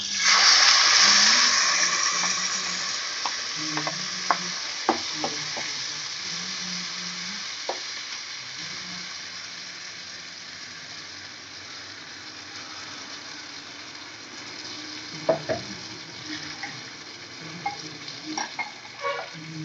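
Continuous sizzling of ground paste for tomato chutney frying in a pan, loud at first then settling, with occasional clicks and scrapes of stirring throughout.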